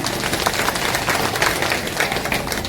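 A crowd at a political rally in Kowad bursts into loud, dense applause, many hands clapping close and continuously for nearly three seconds with no talking.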